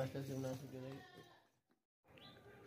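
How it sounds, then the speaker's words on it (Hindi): A Beetal goat, a nanny with kids, bleats loudly and close with a wavering, harmonic cry, then goes quiet before fainter rustling noise returns. "बहुत ही ज़बरदस्त बकरी है"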